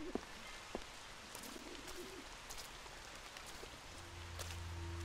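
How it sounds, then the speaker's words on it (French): Steady rain falls across a dark scene in the video game Observer, a constant hiss with faint bird-like cooing calls and a low hum rising near the end; no one speaks. "Don't mind the rain."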